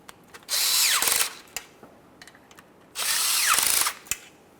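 A power tool runs tightening oil pan nuts on a 1994-1997 Honda Accord with the 2.2L four-cylinder engine, giving two loud whirring bursts of about a second each, with small clicks and clanks between them.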